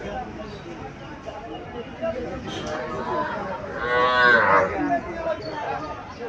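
Young Sahiwal heifer calves at a livestock market give a long, drawn-out moo that swells and fades near the middle, loud and close, with people chattering throughout.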